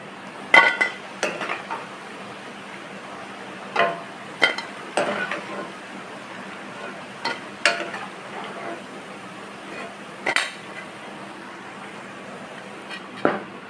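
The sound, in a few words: sweetcorn vadas frying on low heat in a pan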